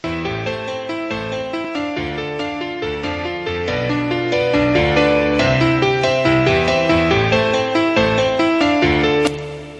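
Music track pushed through a TLS mastering maximizer plugin, loud and dense with steady rhythmic chords and bass, the level swelling slightly midway before cutting off near the end.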